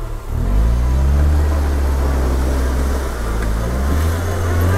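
A SsangYong Korando's engine revs hard and steady as the off-road vehicle turns around in water, a loud, close, continuous rumble with a slight dip in pitch partway through.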